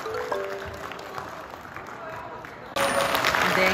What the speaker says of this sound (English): And then clapping for the one that got the bouquet